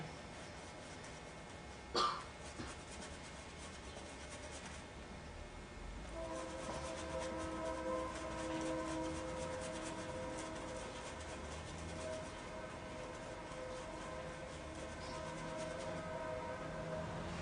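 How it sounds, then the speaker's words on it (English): A distant train passes outside open doors in the Ozarks with a long, low horn tone and steady rumble, faint but sustained, after a brief sharp knock early on. "That's why you're hearing so many trains go by."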